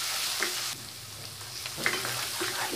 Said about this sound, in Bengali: আর যখন এভাবে শাকটা আমরা ভাজবো তখন চুলার আঁচটা একদম বাড়ানো থাকবে